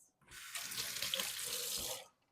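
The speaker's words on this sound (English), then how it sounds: "I'm gonna rinse my hands." Hands rinsed under a running kitchen sink faucet, a steady close splashing stream of water for about two seconds that starts and stops abruptly, with no talking.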